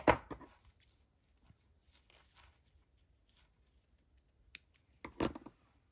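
A knotted piece is snipped off during paper and fabric scrap crafting: a few quiet, close, crisp cuts, one at the start and another near the end, separated by near silence.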